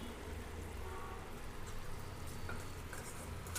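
Onions sizzle and fry in a pan with chilli powder and salt, a continuous dense crackling hiss with occasional stirring scrapes, steady and close with no voices.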